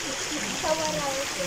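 Mountain stream at Mount Parawagan rushing and splashing in a steady close wash of water, with faint talk mixed in.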